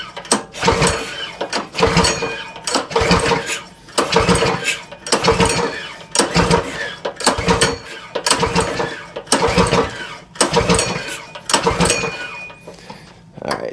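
A Predator 224 engine on a mini bike, fuelled with old gas, is pull-started over and over. About a dozen loud ratcheting recoil pulls come in steady succession, each one whirring and clattering, and the engine never fires.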